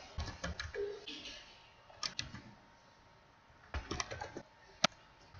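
Code being typed on a computer keyboard, with short bursts of clicky keystrokes separated by pauses and a sharper tap near the end, close and quiet over a faint hum.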